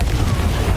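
Confringo fire-blast spell from Hogwarts Legacy exploding in a deep, sustained booming rumble with heavy low-end roar lasting under a second, loud and continuous.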